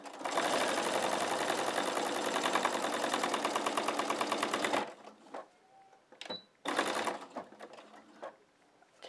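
A sewing machine double stitches chenille around a shamrock outline, a fast steady mechanical whir for about five seconds, then stops, followed by a few short bursts of stitching.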